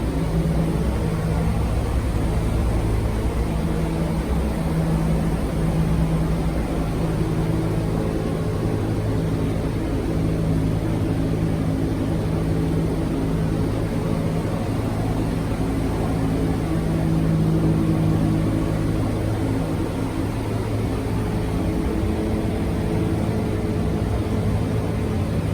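Inside a B-17 Flying Fortress bomber in flight, the engines drone as a loud, constant, close rumble that fills the cabin without letup, with no talk over it.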